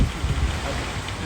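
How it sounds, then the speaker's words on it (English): Steady rain falling under gray skies outdoors, a continuous close hiss with low rumbling wind or traffic noise. "So this is the rain."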